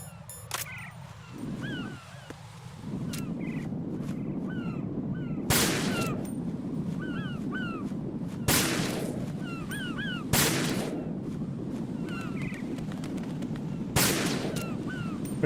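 Gunfire in Metal Gear Solid 2, a few sharp, isolated shots spaced seconds apart over a low ambient rumble, with chirpy bird-like calls scattered in between.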